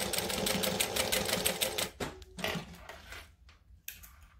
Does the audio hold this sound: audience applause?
no